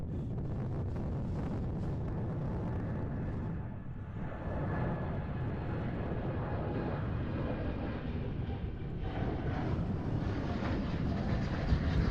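Air Europa jet taking off on the Kaagbaan runway at Schiphol on a windy day, a broad steady engine roar mixed with gusty wind buffeting the microphone throughout, swelling slightly toward the end.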